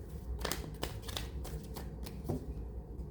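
Tarot cards being shuffled by hand, a close, quiet series of crisp riffling snaps and slides repeating irregularly over about three seconds, with no talking.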